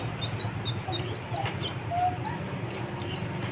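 A chicken clucks in short, repeated calls over quiet outdoor background noise, fairly close by.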